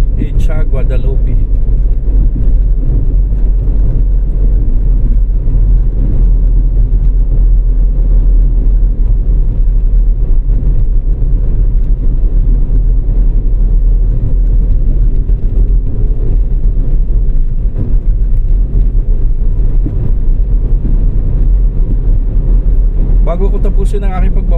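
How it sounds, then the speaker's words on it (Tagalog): Road traffic on EDSA at Guadalupe, northbound, gives a steady, heavy low rumble of passing vehicles throughout, while a person talks over it. "Ito po ang traffic update dito sa location ng EDSA, Guadalupe."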